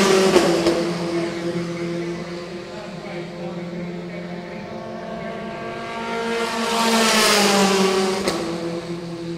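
Formula 4 race cars in the 2017 South East Asia Championship drive around a circuit, with engines droning and revving, then a louder car sweeping past; a commentator talks over the sound.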